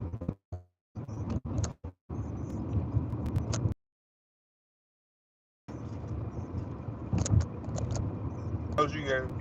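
A car is driving along the road, its steady engine and road rumble broken by a few short gaps, with occasional knocks and clinks from inside the cabin.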